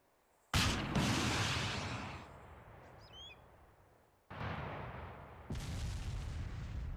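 A launcher tube fires a round with a loud sudden blast that rolls out into a long decaying rumble, followed later by two more heavy booming bursts outdoors.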